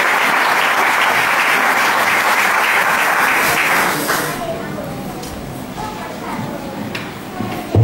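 Evangelical church congregation applauding during a Sunday service, dense sustained applause that fades after a few seconds into scattered claps and murmuring voices.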